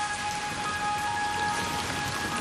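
Steady rain falling over the low-lying wetlands of the Mekong Delta in the wet season, a dense continuous patter and hiss with no voices.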